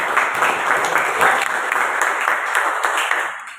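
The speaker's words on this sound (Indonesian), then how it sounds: "ya kita berikan dulu aplaus untuk kegiatan kita hari ini" Applause from a classroom of students after a drawing-practice activity, a dense, steady wash of many hands clapping at close range for several seconds before tapering off at the end.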